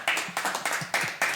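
An audience at a French comedy stage show by Les Chevaliers du Fiel breaks into brief applause, heard as a short run of loud, uneven clap bursts, close and dense, with no voices over them.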